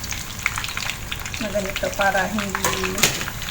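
Chicken balls fry in hot oil with a steady crackling sizzle, up close, while a voice and some tonal sounds briefly rise over it midway.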